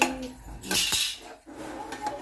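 A utensil stirs tomato rice in a pot, giving close metallic scrapes and clinks against the pot in short, uneven strokes.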